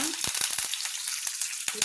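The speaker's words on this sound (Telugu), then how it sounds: "పోపు దినుసులు వేగాక ఒక ఎండుమిరపకాయను 2 ఎల్లిపాయ రెబ్బలు వేసుకున్నా" Tempering spices with a dried red chili, two garlic cloves and a sprig of curry leaves fry in hot oil for a fenugreek-leaf chutney, a close steady sizzle broken by short crackling pops throughout.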